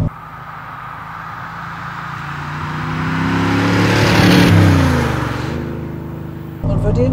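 A 1972 De Tomaso Pantera sports car with its 5.8 l 350 hp V8 rumbles closer, its deep engine note swelling to a loud peak around the middle as it passes, then fading away before a sudden cut.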